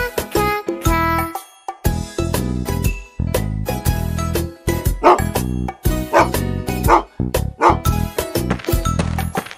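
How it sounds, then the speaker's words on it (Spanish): A small cartoon dog yips and barks in quick bursts over a bouncy children's song with jingling bells, loud and upfront throughout. "Perrito, perrito."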